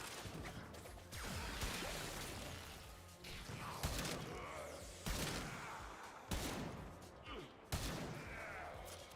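Gunfire from weapons in the video game Warframe, a run of dense sharp bursts and crashing impacts repeating every second or two, loud and close, with whooshing effects between shots.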